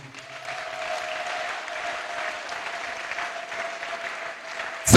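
A church congregation applauds in a sustained, even wash of clapping that holds steady for several seconds at moderate volume, with a faint steady tone running beneath it.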